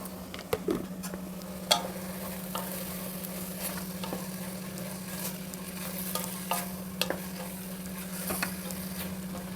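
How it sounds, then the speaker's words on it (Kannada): Spices frying for a pulao crackle and sizzle steadily in a pan, with a low steady hum underneath and scattered sharp clicks and scrapes of stirring, close and fairly quiet throughout. "ಮಸಾಲೆ ಒಗ್ಗರಣೆ ಎಲ್ಲ ಸೇರಿಸಿ ಹುರಿದಿದ್ದಾಯಿತು."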